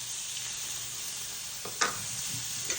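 Diced sweet yellow onion sautéing in bacon grease, a soft, steady sizzle with a couple of faint stirring scrapes near the end.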